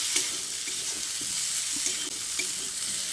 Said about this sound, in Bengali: টমেটোটা দিয়ে আবারও সব কিছুকে একসঙ্গে ভালো করে নেড়েচেড়ে মিশিয়ে নিচ্ছি